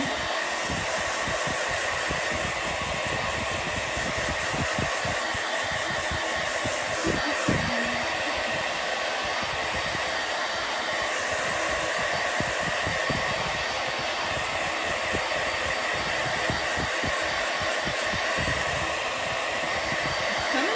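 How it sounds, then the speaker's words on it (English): A hair dryer blows steadily while hair is dried, a loud continuous broadband whoosh that holds unbroken for the whole stretch with small flutters as the airflow moves. "Blow dry your hair while you're getting ready."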